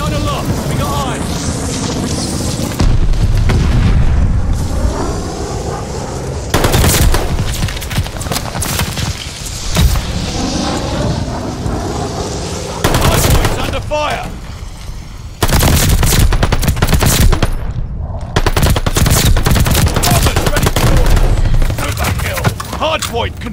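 Gunfire in the video game Call of Duty Vanguard multiplayer, with dense, continuous bursts of automatic weapon fire and explosions layered loudly throughout, broken by a few short pauses.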